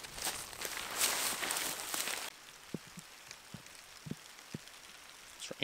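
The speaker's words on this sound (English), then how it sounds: "It's raining." Rain falls steadily at a wilderness bushcraft camp, a loud dense patter for the first two seconds that thins to scattered individual drops hitting nearby surfaces.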